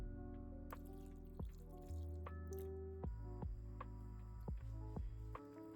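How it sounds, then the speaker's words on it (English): Boiled potatoes being mashed with milk in a pot, wet squishy squelches and soft dripping sounds recurring at an uneven pace, quiet and close, with no talking. "In the same pot, mash your potatoes with half a cup of milk."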